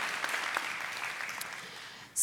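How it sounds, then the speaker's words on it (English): Faint, distant applause from an audience at a design awards event honors shortlisted submissions, soft scattered clapping fading before a sharp noise at the end. "One last round of applause for all of our shortlisted submissions."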